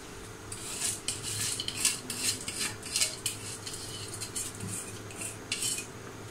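Metal utensils clatter and scrape against a pot as rice is added, in irregular bursts, close up, with a low steady hum beneath.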